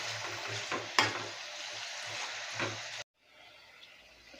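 Ridge gourd with salt and turmeric powder sizzles in a pan under steady scraping stirs, with a clack of the spoon against the metal, before the sound cuts off abruptly to a quieter hiss.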